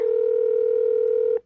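A loud, steady telephone dial tone hums close and clear for over a second before stopping abruptly.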